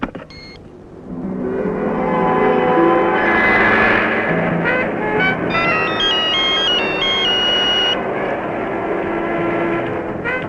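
An electronic telephone ringtone sounds in a hospital during an emergency, a steady pattern of bright repeating tones rising over a dense, continuous background rumble, with no voices.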